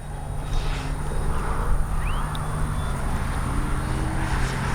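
RC F4U Corsair warbird model plane flying overhead on a 6S battery, a continuous loud electric motor whine with a propeller buzz that swells and fades slightly as it passes, alone.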